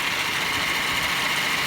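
A worn air-conditioning condenser at the front of an old Toyota Vios Limo runs with a steady, coarse, rumbling whir that is continuous and unbroken throughout.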